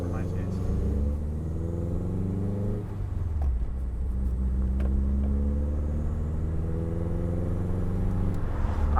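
A Subaru WRX with a built EJ205 engine driving along, heard from inside as a steady low rumble with a brief shift in tone near three seconds, and the engine hum continuous beneath quiet talk from the occupants.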